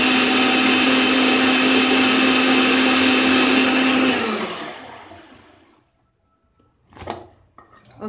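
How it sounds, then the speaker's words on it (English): An electric blender whirs loudly and steadily through kefir and besan batter for about four seconds, then winds down and stops, followed by a few soft kitchen clatters. "No, there's still some besan, so we'll give it one more blend."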